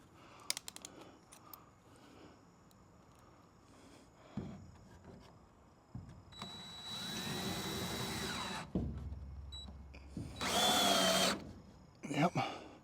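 A power drill drives wood screws into wood while a carport is converted into a workshop, with a few bursts of whirring of a second or two each between stretches of quiet and some talking.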